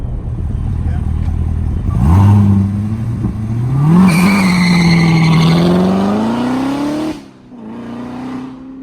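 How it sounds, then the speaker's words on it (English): A Chevrolet Corvette ZR1 launches hard, its engine roaring loudly up close and climbing in pitch, shifting and pulling again before the roar cuts off and drops back to a lower drone. "We're gonna miss you, ZR1. Those are some pretty good launches we just had."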